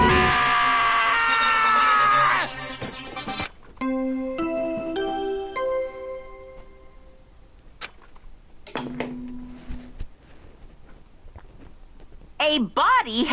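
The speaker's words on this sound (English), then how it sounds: "Yeah, I heard screaming." A high-pitched scream rings out loud at the start of the Danganronpa video game, followed by chiming synthesized tones and brief effects, with a short cry near the end.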